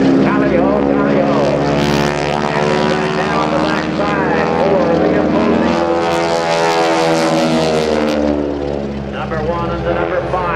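Aerobatic propeller airplanes of a formation team perform at an air force base open house airshow, a loud sustained engine drone filling the whole stretch while an announcer talks over it.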